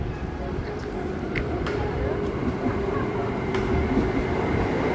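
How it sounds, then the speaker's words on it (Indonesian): A KRL commuter electric train rumbles steadily at close range in Jakarta, a continuous low roar with faint clicks and brief high squeals, growing slightly louder toward the end. "Ini dia KRL kita."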